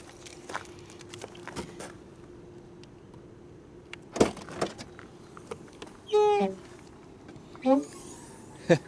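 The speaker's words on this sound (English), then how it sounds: "So other than the squeak, looks like the shocks are still in good position." A high-mileage Ford Fiesta's suspension gives a couple of short, squeaky creaks amid faint knocks and rustles inside the car, the squeaks rising briefly above a quiet background.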